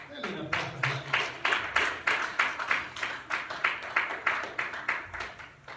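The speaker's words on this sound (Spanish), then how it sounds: "Pónganse de pie y denle un aplauso a Jesús." A church congregation claps in steady rhythmic unison, loud and close, with sharp repeated claps continuing for several seconds.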